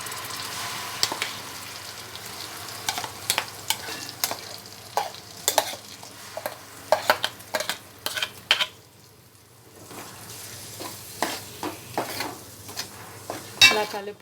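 Onion paste fries in oil for a fish curry, a soft continuous sizzle broken by repeated scraping strokes of a spoon against the pan, close and unhurried, with a short pause in stirring midway.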